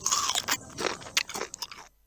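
A Nabisco Coaster snack, creamy and crunchy, is bitten in an advert: a quick series of crisp, close crunches and chewing sounds for about two seconds, then silence.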